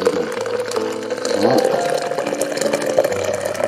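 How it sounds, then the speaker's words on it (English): Hot water pours steadily into a French press of coffee, a continuous close liquid rush under a faint background voice. "Put the hot water in."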